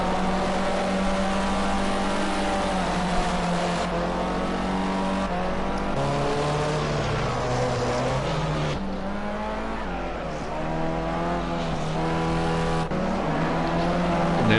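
Race cars in a Formula C racing video game, engines whining loud and continuous with pitch rising and dropping through gear shifts as the cars pass, no talk.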